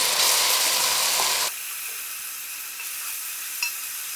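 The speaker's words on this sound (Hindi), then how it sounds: "अब इसे हम थोड़ा भून लेंगे।" Juicy chopped tomatoes hit a hot pan for chicken kabsa, starting with a loud, bright sizzle that drops to a steadier, quieter frying hiss, heard close with no talking.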